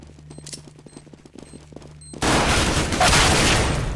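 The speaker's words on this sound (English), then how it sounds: "if you hit him with the burst, you hit him pretty much three times" Loud, close burst gunfire from a CS:GO match: quiet game ambience with light footsteps, then a sudden sustained rattle of rapid shots that lasts to the end.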